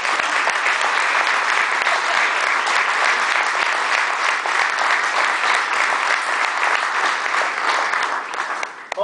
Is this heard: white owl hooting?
no